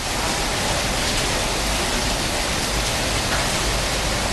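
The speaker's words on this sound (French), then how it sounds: "Parce qu'en fait il pleut." Heavy rain pours down in Darwin, Australia, in a dense, constant hiss, loud and close, with no pauses or voices.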